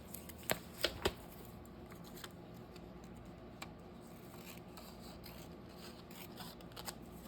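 Scissors snip through glossy magazine paper, a few crisp close cuts early on and then quieter rustling and scattered small snips against a faint background.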